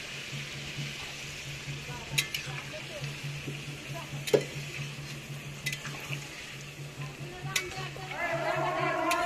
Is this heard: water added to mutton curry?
yes